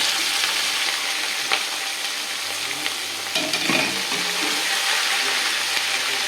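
Bell peppers sizzle steadily in hot oil, a constant crackling hiss with a few clinks of stirring partway through.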